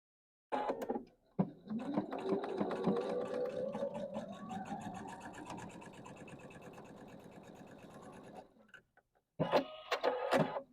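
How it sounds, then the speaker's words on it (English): A sewing machine runs in one long steady burst of rapid stitching, joining two fabric rectangles to either side of a quilt block's middle square, with short bursts of stitching before and after. "So now I'm going to sew these 2 rectangles to either side of my middle square."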